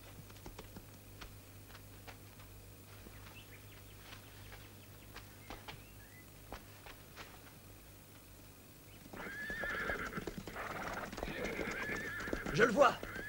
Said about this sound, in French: Regardez ce cheval.